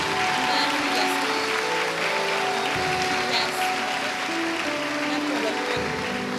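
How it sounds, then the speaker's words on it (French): Children and a church congregation at a Sunday worship service clap together for their parents. The applause is partly masked by voices and sustained tones running underneath it the whole time. "Chers enfants, applaudissez-les."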